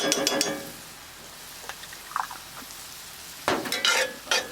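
Mushrooms in butter being stirred in a skillet give a quiet sizzle with bursts of spatula scraping and clinks at the start and again near the end.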